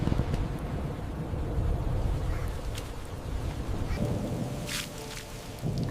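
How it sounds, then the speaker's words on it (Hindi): Heavy rain in a thunderstorm makes a dense, loud, constant roar with low rumbling thunder underneath and a brief crackle near the end, with no speech over it. "अरे ये तो बारिश तेज होने लगी"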